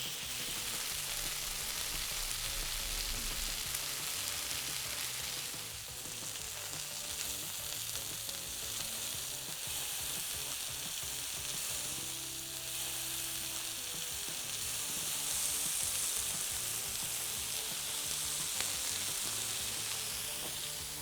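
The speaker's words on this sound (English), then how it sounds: "All right, those are sizzling away." Chicken satay skewers sizzle steadily on a grill, a dense, crackling hiss that carries on without a break, close and fairly loud.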